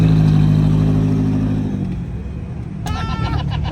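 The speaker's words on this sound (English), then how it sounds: "Lotus pulling out of here." A Lotus sports car revs as it pulls out of a car meet, a loud engine roar easing off before a short burst of voices and clatter.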